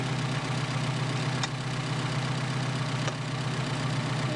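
A Mercedes 190SL engine with Solex 44PHH carburetors idles steadily with a smooth, even low hum, close and alone apart from two faint clicks.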